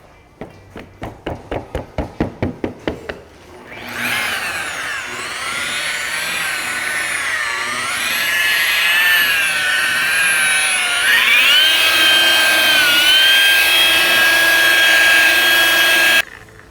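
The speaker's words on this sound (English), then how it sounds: "Polishing pad, cutting compound, Rupes blue." A Rupes machine polisher with a blue cutting compound pad working Ferrari paint: a quick series of clicks, then a loud steady high whine that shifts in pitch under pressure before cutting off.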